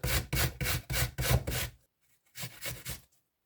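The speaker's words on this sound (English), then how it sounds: "Then you want your apple, and you just want to grate this up." An apple rubbed against a grater in close, rhythmic rasping strokes, a run of about six quick scrapes, a short pause, then three or four more.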